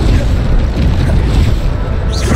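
Bombarda blasting spell in the Hogwarts Legacy game, a dense, loud, sustained rumbling boom that fills the whole clip with broad low-heavy noise.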